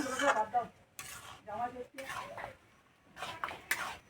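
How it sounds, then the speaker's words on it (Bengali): Mango kheer payesh stirred in a pot to cool it. A spoon scrapes and clatters against the pot in short separate bursts, with a voice faintly present between strokes. "এইভাবে একটু নাড়াচাড়া করে ঠান্ডা করে নেব"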